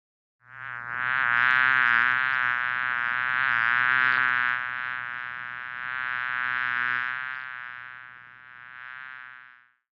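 Honey bees buzz around a hive topped with a honey super full of frames; the drone is loud, close and continuous for about nine seconds, easing slightly near the end, with no talk.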